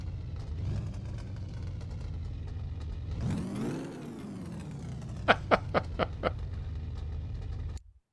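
Motorcycle engine in a mechanic video game, a steady idle that surges in one rising rev, then settles before a quick series of five sharp throttle blips, ending abruptly.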